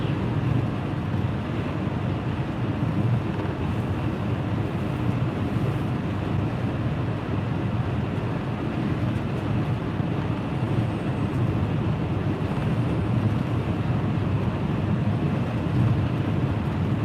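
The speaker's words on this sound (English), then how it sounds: "It's windy today." Steady low rumbling buffet of wind hitting a microphone, constant and unbroken throughout with no voices.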